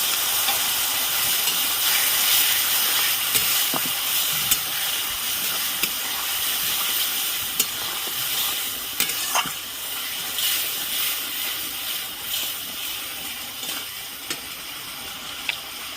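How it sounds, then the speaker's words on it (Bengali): Soaked cumin and chili powder with a little water hit a hot pan and sizzle in a steady, close hiss, with small spatter pops and stirring ticks, for a fish curry, with no talking. "জিরের গুঁড়ো আর লঙ্কার গুঁড়ো ভিজিয়ে রেখেছিলাম দিয়ে দিচ্ছি সামান্য একটু জল"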